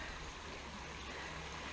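A creek swollen after heavy rain on flooded farmland rushes in a steady, continuous broadband wash, moderately distant and fairly quiet, with no voices.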